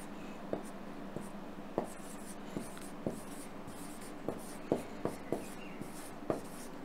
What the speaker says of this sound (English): so I'm writing it down